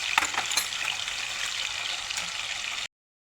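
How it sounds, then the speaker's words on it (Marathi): Paneer pieces frying in hot oil for a homemade vegetable biryani give a steady, close sizzle with soft bubbling pops for a few seconds, then stop abruptly. "पनीर पण फ्राय करून घ्यायचं आहे।"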